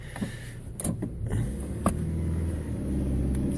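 A Rover 400 car engine rumbles steadily as the car is moved off, with a few brief clicks and knocks near the start over the continuous low drone.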